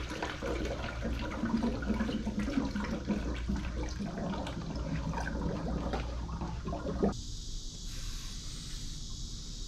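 Coolant siphoning into the cooling system of a BMW E82 drift build, a steady close gurgling, swirling wash of liquid that runs continuously for about seven seconds before dropping to a quieter hiss.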